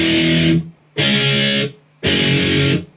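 Distorted electric guitar chords from a song, three loud sustained strummed chords in a row, each ringing about half a second before choking off, close and unaccompanied.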